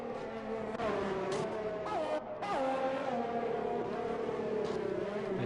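Race cars in a video game race at a Chinese circuit, engines whining and shifting pitch as they accelerate and change gear, with brief rising notes of cars close by over a continuous racing drone.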